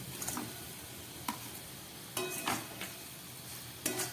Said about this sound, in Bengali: এইবার আমি এর মধ্যে এই ভেজে রাখা মাছগুলোকে দিয়ে দিচ্ছি।